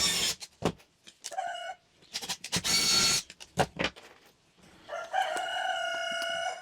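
A pet rooster crowing near a tiny house under construction, several loud bursts of clattering work noise first, then a drawn-out harmonic crow that rings clearly for over a second.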